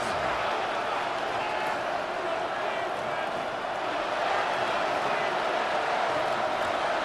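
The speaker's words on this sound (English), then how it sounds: "This crowd, they're trying to force a false start. What noise before 3rd and inches." A large stadium crowd in Madden NFL 26 roars in a continuous, dense wash of noise with no breaks, steady and loud throughout.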